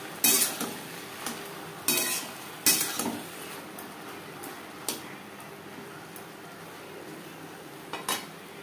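Okra with slit green chillies being stirred in a cooking pan, a few sharp clinks and scrapes of a metal spoon at irregular intervals over a quiet kitchen background, with no talk.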